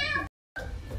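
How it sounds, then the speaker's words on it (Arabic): A cat meows indoors in short bursts, with someone talking over and around it and a brief silent gap between the sounds. "حصي قطو تقول مياو"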